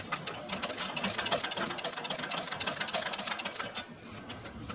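Sewing machine stitching a straight line on paper during a tailoring practice lesson, a steady rapid mechanical whirr with fast ticking stitches, close and loud, briefly pausing near the end before running again.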